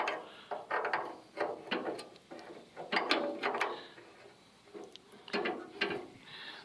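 A rusted generator nut on a Coleman Air-O-Gas cabin stove being turned with a wrench on the bench, giving a series of close, scraping metal clicks and creaks in uneven bursts with short pauses between.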